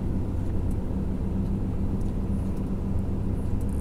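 A Volvo FH truck's engine brake holds it back on a mountain descent, heard as a steady, deep, continuous rumble from inside the cab with no talking.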